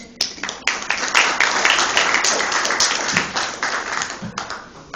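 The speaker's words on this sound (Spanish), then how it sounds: "Fuertes aplausos, por favor." An audience at a literature week tribute event claps steadily for several seconds, a fairly dense round of applause with some individual sharp claps standing out.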